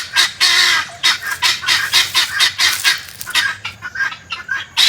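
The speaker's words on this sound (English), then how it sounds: "Oh, we have some birds." Fowl call loudly close by in a rapid series of honking, clucking bursts, one after another with short gaps, with no talking over them.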